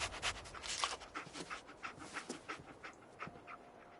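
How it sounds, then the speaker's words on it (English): Dogmeat the dog from Fallout 4 panting and sniffing in quick, breathy bursts at close range, a steady rhythmic series of soft huffs over about four seconds with no talking. "Dog meat. Get the scent, boy."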